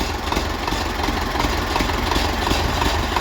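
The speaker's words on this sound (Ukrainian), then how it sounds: "трактор ми завели" MTZ-82 tractor diesel engine idling steadily just after starting, a continuous low rumble with a faint regular knock, close and alone with no talk.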